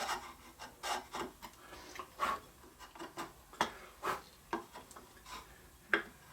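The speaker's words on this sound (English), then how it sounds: "now I'm just going to get in here with a sharp 3/4 inch chisel, and we're just going to finish this off." A sharp 3/4 inch chisel trims a wooden inlaid dovetail with a series of close, short rasping scrapes and light taps spread irregularly through the stretch, with no talking.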